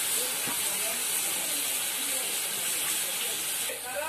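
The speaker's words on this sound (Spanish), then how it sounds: "Ahora lo sofreímos ahí en esta salsa de ajo, aceite con ajo." Food sizzles in a pan of garlic and oil sauce while cooking pipián, a steady close hiss of frying that carries on evenly throughout with no break.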